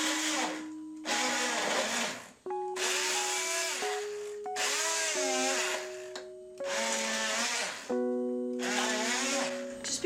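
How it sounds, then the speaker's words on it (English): Stick blender whirring in chunky soup inside a crock pot, several bursts of high motor whine switched on and off with pitch shifts as it churns, loud and close. "it's so easy to control it with the stick blender"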